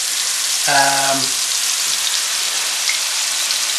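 Quorn jalfrezi frying in a pan with green chillies, a steady broadband sizzle running throughout, with a brief tonal clatter near the start.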